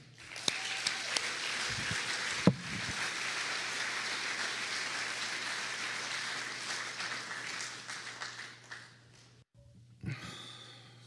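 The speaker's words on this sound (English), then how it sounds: "let's give a round of applause and a welcome to Peter M." An audience at an Alcoholics Anonymous meeting gives a round of applause, a steady patter of many clapping hands that holds for several seconds, then tapers off into quiet with a couple of soft knocks.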